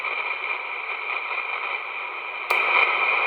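Band-limited CB radio static hisses steadily on a President Uniden Grant, then a click as the preamp is switched off shifts the noise to a slightly louder, altered hiss for the last moments.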